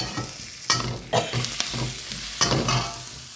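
Prawns fry with freshly added tomatoes in a spicy devilled mixture, a loud, steady sizzle close by, punctuated by a few sharp scrapes and knocks of a spoon stirring the pan.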